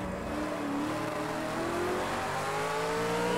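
A race car engine screams along the straight at the Long Beach street circuit in Project CARS 2, a loud, sustained high-revving tone climbing steadily in pitch with no talk over it.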